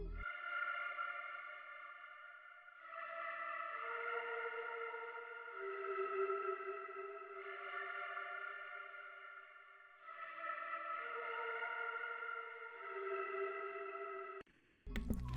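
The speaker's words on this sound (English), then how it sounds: "Added this like pad sound from Analog Lab." Costos organ pad from the Mellotron bank in Analog Lab, playing soft sustained chords that change every few seconds, with a reedy, airy tone and a gentle swell, alone and steady throughout.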